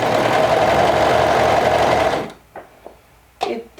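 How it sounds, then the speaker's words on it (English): Close, loud sewing machine running in a steady rapid stitching whir for about two seconds, then stopping, followed by a few soft clicks and handling knocks. "now when I continue sewing,"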